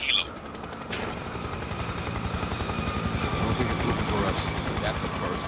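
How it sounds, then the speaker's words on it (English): An incoming helicopter in the Spec Ops: The Line video game approaches with a steady, fast rotor chop that builds gradually louder over several seconds. It begins after a sharp opening burst, and no voices are heard. "Incoming helo."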